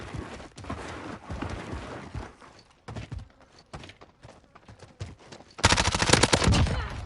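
SMG hip-fire in a Call of Duty match: scattered bursts of gunshots with short gaps, then a sustained loud rapid-fire spray near the end, close and dominant with no talk.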